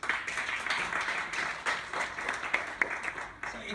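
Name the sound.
crowd applause at rally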